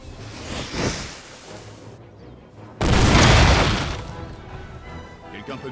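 Cannon fire from a Napoleon: Total War battle. A deep boom comes first, then a louder blast near the middle whose roar rolls off over a couple of seconds, with faint voices mixed in.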